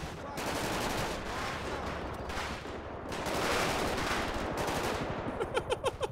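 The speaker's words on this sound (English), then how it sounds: "I'm too busy shooting" Sustained rapid gunfire in the police game FivePD during a standoff with a bunkered-down suspect, loud and continuous with dense overlapping bursts, ending in a few distinct separate shots.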